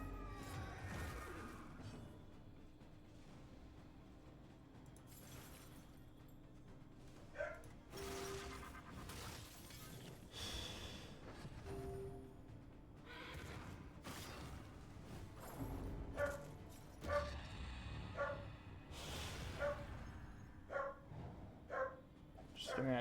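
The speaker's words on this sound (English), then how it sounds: "And the dog is barking for no reason." A dog barks intermittently in the background, scattered yips and woofs rising and falling under a person talking over game sounds.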